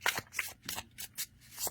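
A Seed Tarocle tarot deck shuffled overhand: soft, papery bursts of cards sliding in a quick, uneven repeating rhythm, close and quiet.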